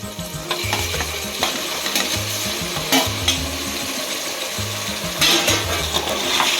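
Mutton frying in oil, a steady loud sizzle with frequent stirring scrapes and metallic clinks of a spoon against the vessel, close up.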